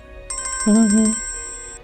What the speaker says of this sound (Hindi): देखो किसका फोन है। अननोन नंबर है,